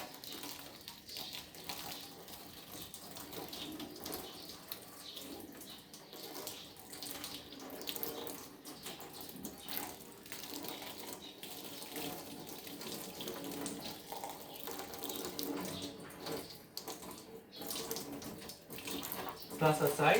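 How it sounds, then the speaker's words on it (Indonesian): Hands are washed under a running tap, a soft continuous splash of flowing water that goes on steadily for about twenty seconds at low, even volume. "membasuh tangan menggunakan air mengalir"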